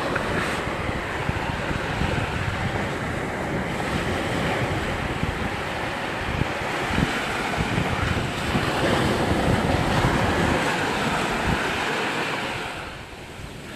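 Sea waves rush steadily up a sandy beach, a continuous loud wash of surf mixed with heavy wind buffeting the microphone, easing slightly at the very end.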